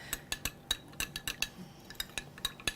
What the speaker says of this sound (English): I'm going to open that up into the wellness shot, and I'm just going to stir that up for a little bit